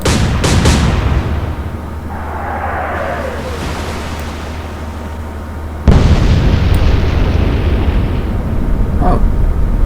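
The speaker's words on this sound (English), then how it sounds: "that was an explosive conclusion to this engagement. Even though there was no fire on board, they just decided to explode spontaneously" Warships explode during a naval battle in the Atlantic Fleet video game, loud booming blasts with crackling debris and rumble, an initial burst followed by a second heavy explosion midway, no talking.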